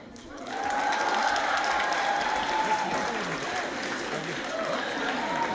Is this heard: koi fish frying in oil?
no